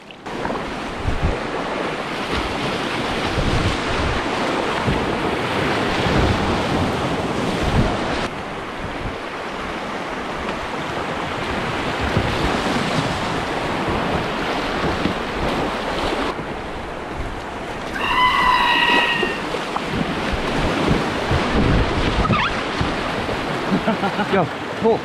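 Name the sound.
river water rushing on the Tellico and Upper Green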